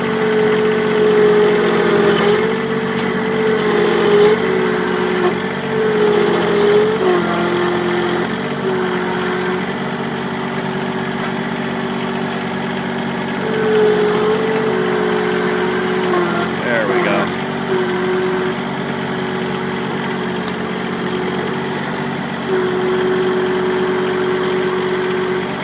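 A John Deere 1023E compact tractor engine revs and holds at a loud, steady drone, close by, with its pitch wavering slightly up and down throughout.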